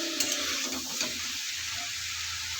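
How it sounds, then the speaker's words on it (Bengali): Cumin and pepper powder sautéing in a hot pan while cooking a silver carp fish curry with potatoes, giving a steady close sizzle and hiss with faint stirring, and no talking. "এইভাবে 2 মিনিট ভালোভাবে কষিয়ে নেবো"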